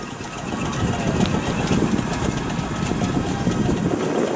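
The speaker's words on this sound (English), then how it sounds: "A big Fowler road locomotive now, these big black engine just coming into the arena, built by Fowlers of Leeds" A big black Fowler steam road locomotive, built by Fowlers of Leeds, works its way into a show arena at a steam and country show, giving a dense, steady low rumble and chuff that fills the whole stretch without talk.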